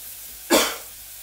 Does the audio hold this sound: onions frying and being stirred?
no